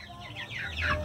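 Close, soft clucking from hens over a low background rumble, growing a little louder toward the end.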